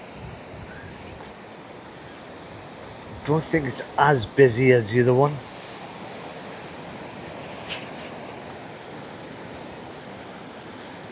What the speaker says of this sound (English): The sea's just as crazy.